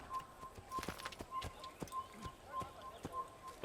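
Horse hooves clip-clop in a steady walking rhythm in Assassin's Creed, a mounted horse moving slowly, moderately quiet with faint ambient tones and a soft low thump around.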